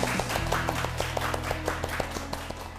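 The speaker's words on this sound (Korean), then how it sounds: "큰 박수로 맞이해주세요" Studio audience clapping to welcome a lecturer onto a Korean lecture show stage, a brief, fairly quiet patter of hand claps at a steady pace.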